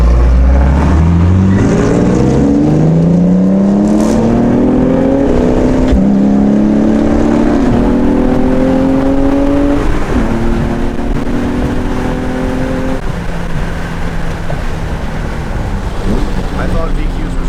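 A Nissan 350Z with a VQ engine accelerates hard through several gears, its drone rising in pitch and then dropping at each shift, with steady wind and road noise underneath.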